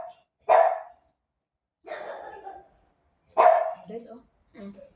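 Dogs barking nearby, four distinct loud barks spaced roughly a second apart, each sharp and ringing, with silence between them.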